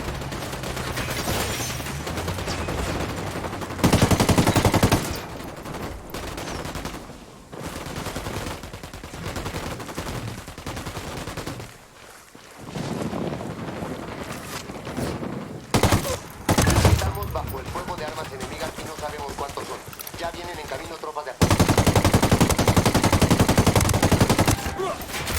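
Loud bursts of rapid gunfire and heavy fusillades from the video game Ghost Recon Wildlands, arriving in several intense volleys separated by quieter stretches with scattered shots.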